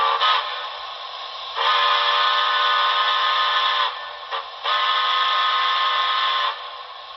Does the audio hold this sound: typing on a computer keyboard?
no